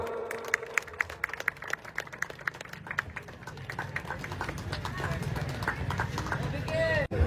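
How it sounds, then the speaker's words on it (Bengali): A crowd at a Shiva puja fair claps during a ceremony, starting with sharp rhythmic claps that swell into denser, sustained applause beneath a speaker's amplified voice. "সবাই একটু হাততালি দিতে হবে তো।"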